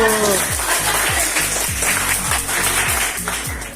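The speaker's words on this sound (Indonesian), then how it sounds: "Tepuk tangan dulu." Students clapping during a school class presentation, a burst of crowd applause with a rhythmic low pulsing beat running underneath it.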